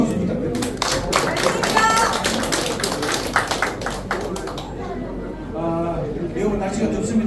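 Applause from an audience at a Korean political gathering of occupational group leaders, a burst of dense clapping that rises and thins over several seconds, with speech from a host mixed in.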